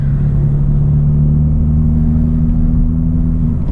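A Hyundai Veloster N accelerating hard in second gear toward the limiter at night, its engine a loud, steady low drone with a sustained tonal hum heard from inside the cabin, no talking.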